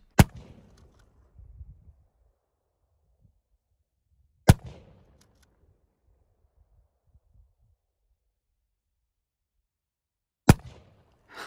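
Shots from a pistol grip shotgun fired at targets 50 yards away outdoors, three sharp loud blasts spaced several seconds apart, each followed by a short ringing decay, with quiet stretches between.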